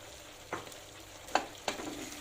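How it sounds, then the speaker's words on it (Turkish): Onions and carrots sizzle in a pan with a few sharp bursts of frying as they are stirred, three distinct crackling surges over a steady hiss. "Tekrar soğanlar da şöyle bir kavrulacak."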